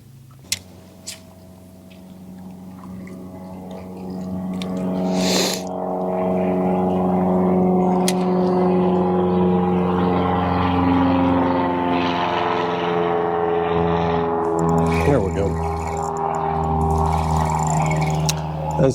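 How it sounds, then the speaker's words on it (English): A propeller airplane passes overhead above a lake by bluff walls during fall crappie fishing, its engine drone rising from quiet to a loud, steady roar that holds for many seconds, with a voice speaking briefly underneath. "As the plane flies by and jacks up my audio"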